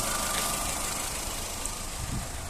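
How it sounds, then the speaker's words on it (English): A VW Polo 1.4 Match petrol automatic hatchback idles with a steady, even, close-up engine hum and a faint rhythmic knock beneath it, with no talking. "engine sound nice and smooth"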